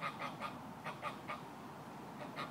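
A pet goose honking in a quick, irregular series of nasal calls, some doubled, fairly close and moderately loud over quiet background.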